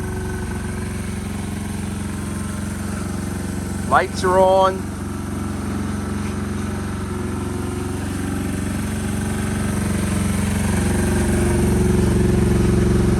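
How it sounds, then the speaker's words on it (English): A small Honda S65 motorcycle engine with a Lifan 125 motor idles with a steady low rumble throughout, while a person speaks briefly nearby. "Got the bike running, idling."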